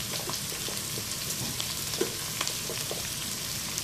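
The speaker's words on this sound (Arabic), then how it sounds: "هلأ تبعا ننزل الباذنجان،" Cubed eggplant frying in hot oil for a rice dish with meat broth and vegetables, giving a steady close sizzle and crackle with scattered small pops, like stirring in the pan, with no talking.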